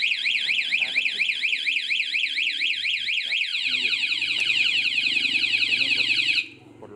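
A G-Lock anti-theft alarm on a 2015 Yamaha R15 motorcycle blares nearby, a loud rapidly warbling siren that switches to a faster pulsing pattern midway before cutting off abruptly.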